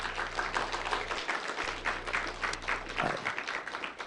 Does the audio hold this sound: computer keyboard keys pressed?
no